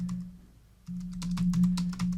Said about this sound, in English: I'm gonna go on the keyboard here right quick. Just typing.